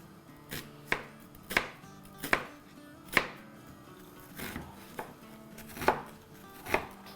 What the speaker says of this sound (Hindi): यहाँ प्याज काट लेते हैं